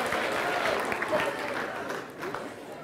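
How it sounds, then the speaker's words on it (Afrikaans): A youth-week crowd claps for themselves in a hall, a steady burst of applause with a few cheers, fading a little toward the end. "Gee lekker hande klap vir julleself, nê?"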